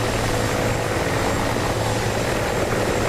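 Mi-24 helicopter in the combat flight sim DCS World, a dense, continuous rotor and turbine roar at high level, steady throughout with no talking.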